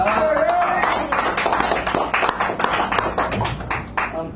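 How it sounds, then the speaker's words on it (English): A small café poetry-reading audience applauds for poet Alan Harris, a brief patter of hand claps following a spoken line, fairly close and moderately loud. "Let's have some claps for Alan Harris."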